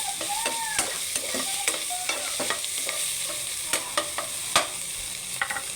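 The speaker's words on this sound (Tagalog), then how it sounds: "Brown ng ating karne, kaya ilagay na natin si upo." Meat browning in a pan while being stirred, a steady background sizzle broken by repeated scraping and clinking strokes of a utensil at irregular intervals, close up and without talk.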